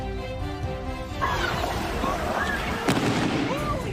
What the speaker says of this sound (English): Fireworks mayhem. They were shooting them at each other.